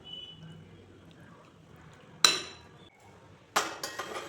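Egg and potato dum biryani ingredients being stirred in a pot, quiet with a sharp metallic clink of a spoon against the vessel, then a cluster of scraping knocks near the end.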